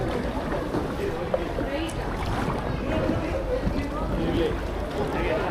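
A boat speeds across the water of Ha Long Bay with a dense rushing roar of engine, wind and spray. The noise is loud and constant throughout.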